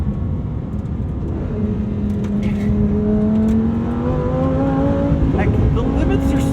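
A Lamborghini Huracan STO supercar on Bridgestone street tires drives hard, its engine loud and continuous with rising revs sweeping upward as it accelerates, under an occasional voice.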